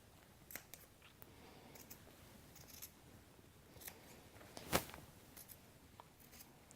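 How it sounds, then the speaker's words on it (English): Scissors snip holes in pillow fabric for grommets, a few quiet separate cuts with one sharper, louder snip near the end, set against soft room noise. "Now I'm going to cut the holes out"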